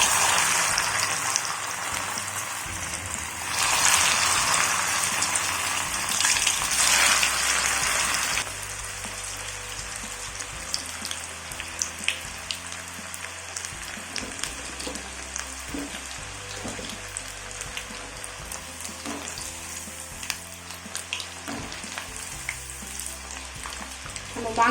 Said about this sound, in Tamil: இப்போ நம்ம எண்ணெயில் பொரிச்சு எடுத்துக்கலாம். எண்ணெய் காஞ்சிடுச்சு. இப்போ நான் போடுறேன்.